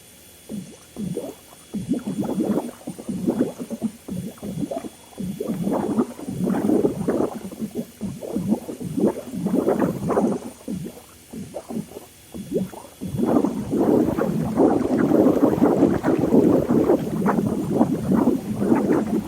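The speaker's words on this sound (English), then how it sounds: "Turn the pump on." A swimming pool pump running while the lines are blown out, pushing water through a side suction line so it bubbles and gurgles in irregular bursts, growing steadier and louder toward the end.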